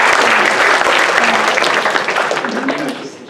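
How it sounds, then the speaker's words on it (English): A lecture-hall audience in a design thinking and pitching class gives a round of applause, loud sustained clapping that fills the room and tapers slightly toward the end. "So another round of applause,"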